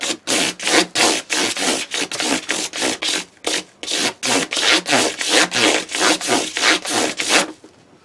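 Fine 1000-grit abrasive is rubbed back and forth over the frets of an Ibanez RG-550M guitar neck, loud close rhythmic strokes about twice a second with brief pauses between passes.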